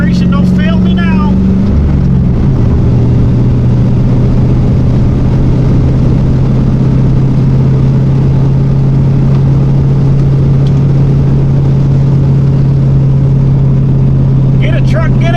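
The V8 engine of a Jeep Grand Cherokee Limited revs and accelerates hard, a loud, steady drone that rises early and then holds at a sustained pitch.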